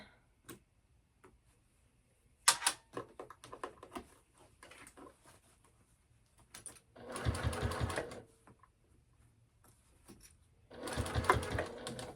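A sewing machine stitching a small clutch bag, with scattered light ticks and taps, then two sustained bursts of rapid mechanical stitching, close and fairly quiet, no talk.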